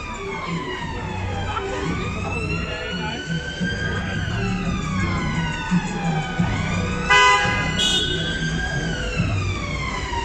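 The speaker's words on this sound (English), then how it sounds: "And here's a siren" A wailing emergency siren sweeps up and down steadily, fairly close, over busy street noise in Brixton, London, with some voices in the background.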